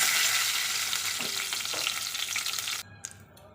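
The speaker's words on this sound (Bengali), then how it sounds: "এবার ওই একই তেলে ফোড়ন দেব এই যে ফোড়নে দিচ্ছি গোবিন্দভোগ চাল" Gobindobhog rice grains and two bay leaves hit hot oil, giving a steady loud frying sizzle with stirring scrapes that cuts out abruptly near the end, leaving faint clinks.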